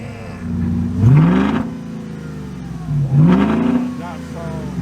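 2004 VW Touareg engine with vacuum exhaust cutout valves open, revved twice in sharp rising bursts over a loud rumbling idle, close up.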